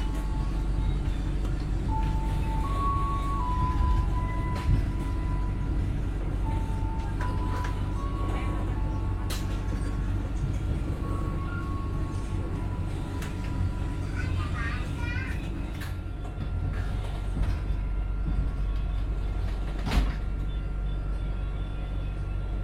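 Kaligung passenger train pulling out of Cirebon Prujakan station, a heavy continuous low rumble of the train moving, with a few tonal whistles and clanks rising over it while someone talks throughout.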